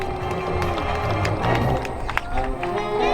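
Crowd noise rising at an outdoor airshow in Ontario as spectators cheer for parachute jumpers, a continuous loud roar with broadband clatter and scattered shouts, with no clear applause bursts.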